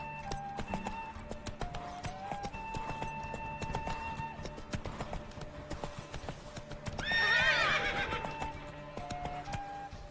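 A horse in The Witcher 3: Wild Hunt trots with steady clip-clop hooves, then lets out a loud, bright whinny midway before the hoofbeats carry on.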